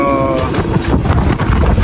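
Strong gusts of wind buffet the microphone at a marina in Liguria where a catamaran is moored, a loud continuous low rumble with surges, and boat noises mixed in.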